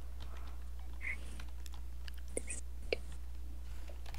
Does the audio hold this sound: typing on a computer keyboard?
yes